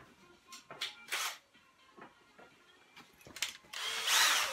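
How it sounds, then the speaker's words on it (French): A power drill bores a screw hole in a wooden frame for a miter-saw and router-table cabinet, with short bursts of whirring and rubbing before a sustained high spin near the end, close by and without speech. "Là, on va percer. On va faire le petit enlèvement pour la vis."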